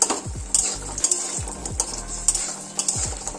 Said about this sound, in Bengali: তো এগুলো আগে আমরা ভেজে নেব